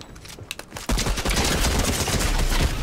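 Fortnite gunfire: a few scattered clicks give way to a sudden, sustained burst of rapid automatic shots that stays loud and dense to the end.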